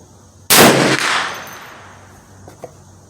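A single sharp, loud gunshot from a free-floated Hi-Point 1095 10mm carbine fired at a target 100 yards out, with a long decaying outdoor tail and a faint later tick, no talking.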